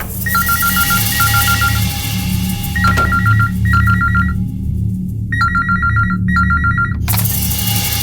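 A telephone rings loudly in repeated chirping bursts, with short pauses between groups, over a low steady background hum; the ringing stops abruptly near the end.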